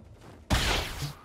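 A Beretta pistol fires in Generation Zero. After a quiet moment comes a sudden loud, close report that rings out briefly into a short tail, with no talking.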